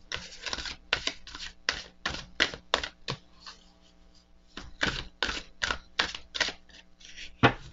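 Oracle cards being shuffled, a series of crisp rapid riffling bursts, close and fairly quiet, with short pauses between them and no talk.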